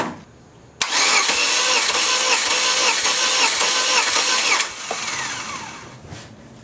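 An engine cranks over during a compression test with a steady rapid churning for about four seconds, then stops and winds down, loud and close.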